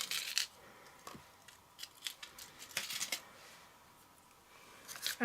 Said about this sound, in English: Now I've got a guide to punch another hole through the previous hole I punched.